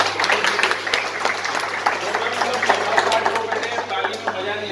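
An audience applauds at an insurance agents' meeting in a hotel, a dense continuous clatter of many hands at moderate loudness, with talk mixed in.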